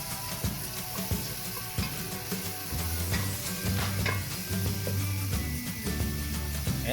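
Sliced onions and minced garlic sauté in a hot pan with a steady, busy sizzle and repeated scraping stirs, close and loud throughout, with no talking.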